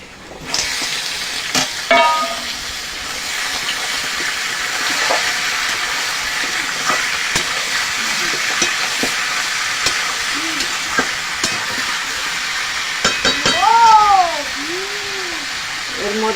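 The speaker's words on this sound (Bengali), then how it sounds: "এবার মাংসটা দিয়ে দেব" Pieces of desi chicken hit deep-red fried onions in a hot pan, raising a steady hiss and crackle with scattered clinks and scraping from stirring, plus a few brief voice-like sounds near the end.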